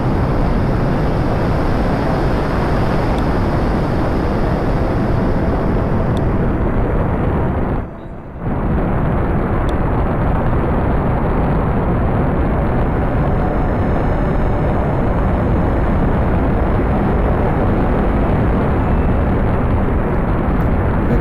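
A rocket engine's thrust in the game Space Flight Simulator roars as a loud, continuous broadband rush, briefly dropping out once before resuming steadily, with no talk over it.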